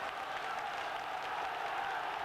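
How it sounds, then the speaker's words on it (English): A stadium football crowd at Leeds United versus Middlesbrough, 1989-90, roars and applauds in a continuous, dense wash of cheering and clapping from many fans. "The crowd beginning to get behind United now"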